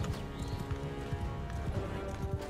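Horse hooves in Mount & Blade II Bannerlord, a quick rhythmic clip-clop of a galloping horse, fairly quiet, with no talk.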